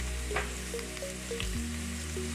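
Potatoes and pork ribs fry together in a pan, giving a steady, close sizzle that holds evenly throughout with no voices over it.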